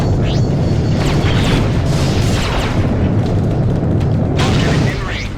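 Missile explosions and weapons fire in the 2003 space combat game Freelancer: a dense, loud, continuous rumble of booms and bursts with whooshing sweeps, while a voice talks over it.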